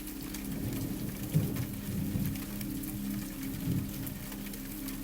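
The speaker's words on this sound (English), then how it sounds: "The kind of rain that doesn't ask you to hurry." Steady rain falls in a continuous soft patter with a low rumble underneath and a few slightly louder swells, with no one speaking.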